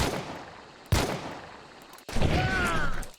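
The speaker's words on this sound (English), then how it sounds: "Frantically fired a pistol into the dark." Gunfire in the Hunt: Showdown game: two sharp, loud bangs about a second apart, each with a short decaying tail, followed by a third blast with ringing, whistling overtones.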